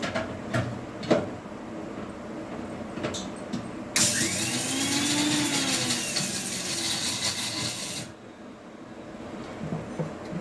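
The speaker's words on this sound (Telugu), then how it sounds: "ఇప్పుడు మిక్సీ వేస్తాను ఇవన్నీ చూడండి మిక్సీలో వేస్తున్నాను" An electric mixie grinder runs loudly for about four seconds, grinding bitter gourd karam ingredients, then cuts off, with light kitchen knocks and handling sounds before and after.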